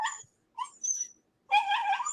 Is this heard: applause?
no